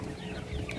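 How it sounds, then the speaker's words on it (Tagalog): Free-range chickens cluck in a brief, busy moment, soft scattered clucks over a muddy farmyard with no speech. "Ayun ang mga manok, ang dami."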